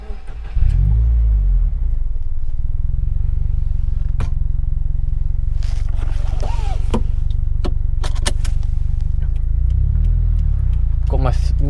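A Subaru WRX drives a mountain road, its engine a deep steady rumble close by with slight revving, under intermittent wind buffeting and a driver talking.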